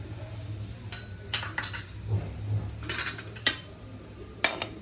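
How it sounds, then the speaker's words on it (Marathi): Cloves, cardamom and bay leaf are stirred in a pan for chole, with several light metallic clinks and scrapes of a spoon against the pan over a low background hum; no voices. "चांगलं ढवळून घेऊया."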